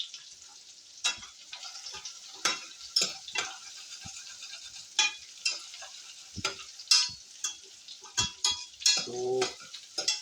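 Onions frying and browning in a pan, a steady thin sizzle broken by frequent scrapes and clinks of a utensil stirring against the pan, close by, with no talk.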